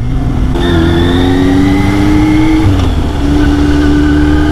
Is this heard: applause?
no